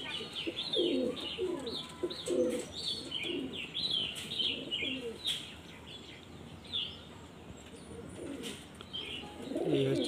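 A male Mundi Sada Jiriya pigeon, held in the hand, coos in soft low repeated phrases close by, while faint chirps from other birds fill the background.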